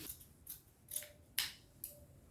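Scissors snip through fabric for a nurse's uniform, five sharp close cuts spaced roughly half a second apart, fairly quiet and with no talking.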